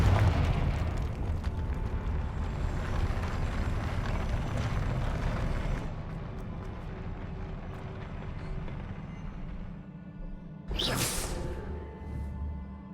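Confringo explosive spell in the Hogwarts Legacy video game, a loud rumbling blast that decays over several seconds, then a sharp bright whoosh and a second burst of noise near the end.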